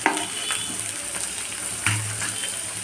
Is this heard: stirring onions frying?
yes